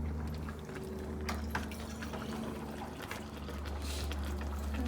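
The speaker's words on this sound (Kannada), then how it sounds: "ಅವಳ ನೀರು ಹಾಕ್ತಾಳಂತೆ, ನೋಡೋಣ ಎಷ್ಟು ಹಾಕ್ತಾಳೆ" Water is poured into a ragi mixture in a home kitchen, a soft, faint continuous trickle with small splashes, heard close and alone.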